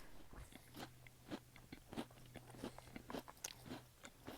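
A person on a hiking trail chews food close to the microphone, with a run of crisp, crunchy bites and wet mastication sounds repeating alone under a faint low hum.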